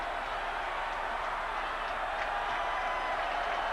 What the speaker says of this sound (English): the crowd coming to its feet in Chapel Hill